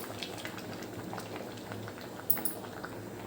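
Water with ragi flour bubbling in a pot on a stove over a medium flame, a soft, faint, close patter of small bubbles with one brief clink near the end and no speech.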